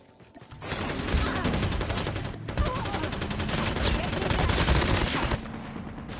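Sustained gunfire in the mobile shooter Call of Duty Mobile, a dense rapid stream of shots running nearly unbroken for about five seconds at steady loudness, with faint voices mixed underneath.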